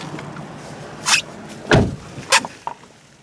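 Door of a 2017 Chevy Spark LS opening and shutting as someone climbs in, a few short clunks and a solid thump spaced over a few seconds, close by and fairly quiet with no talk.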